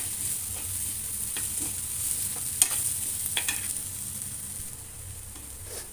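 A potato, bean and carrot mixture being mashed and stirred in a pan for veg cutlets, soft squelching scrapes and occasional taps over a faint sizzle, close, with no talking.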